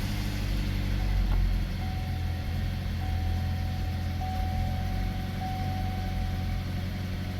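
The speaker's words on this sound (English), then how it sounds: "So we'll just do a cold start and see if we can hear anything." A 2014 Chevy Equinox 2.4L engine idles steadily after a cold start, a low, continuous rumble with a faint high whine, running rough with no voices.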